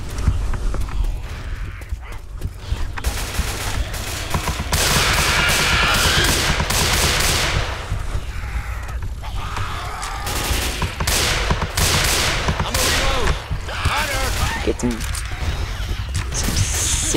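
Sniper rifle gunfire in the Left 4 Dead 2 video game, in the Dead Center mall atrium, with repeated loud shots and crashes amid dense game noise, while a player talks over the action.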